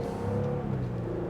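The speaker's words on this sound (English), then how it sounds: "We're gonna see of how it accelerates merging in traffic." A 2024 Lexus GX550 base trim accelerates while merging into traffic: a steady, fairly quiet engine drone with a low rumble that builds evenly, heard from inside the cabin, with no talk.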